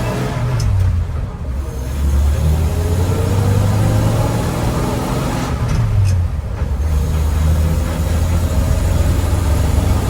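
A 1968 Dodge Sweptline pickup engine runs steadily close by, a low rumbling drone that rises and settles with gentle revving across about ten seconds, with no talk over it.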